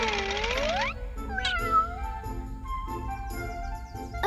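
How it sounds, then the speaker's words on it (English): A cat meows several times, the first call long and sliding, followed by shorter mews spaced through the clip, close and clear against a quiet background. "A cat."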